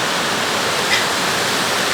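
Water from an African waterfall pours steadily onto people bathing beneath it, producing a dense, continuous close-up rush with no voices.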